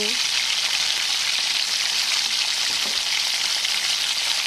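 Vegetables and spices, including taro, green chilli, ginger paste, tomato, cumin, coriander, chilli powder, salt and turmeric, fry in hot oil with a loud, close, continuous sizzle that carries no talk.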